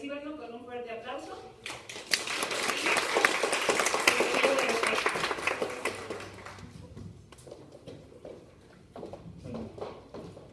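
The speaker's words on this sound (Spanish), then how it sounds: "recíbanlo con un fuerte aplauso" An audience applauds to welcome a speaker, a dense clapping crowd rising for several seconds and then thinning into scattered claps, with talk before and after.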